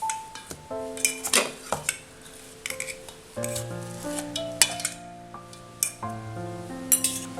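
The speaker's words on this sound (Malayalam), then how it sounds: "ഇനി നമുക്കിത് അപ്പം ഇതിൽ നിന്ന് ഇളക്കിയെടുക്കാം." A metal vessel rings with tonal clanks and scrapes as Pesaha appam is loosened out of it, scattered irregular knocks with lingering metallic resonance, close and moderately quiet.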